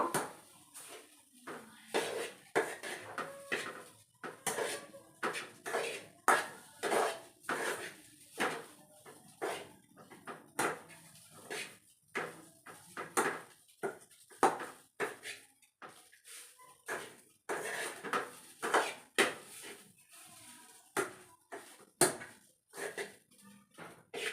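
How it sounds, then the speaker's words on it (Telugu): Leftover rice being mixed with curry leaf paste in a pot: a dense run of clattering spoon scrapes and knocks against metal in an uneven rhythm, close and fairly loud, with no talking. "బాగా మొత్తం కలిసిపోయేలాగా ఈ కరివేపాకు పేస్ట్ మొత్తం కలిసిపోయేలాగా కలిపేసుకుంటున్నా రైస్లో"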